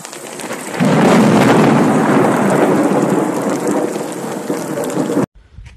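Heavy rain lashes down in a thunderstorm with strong wind in Jeddah, a loud, dense roar that swells after a quiet start and holds steady before cutting off abruptly near the end.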